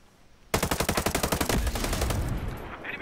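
Hostile automatic gunfire in Ghost Recon Breakpoint, a loud, close, rapid burst of machine-gun shots with a steady pulsing rhythm that trails off into a rumbling tail.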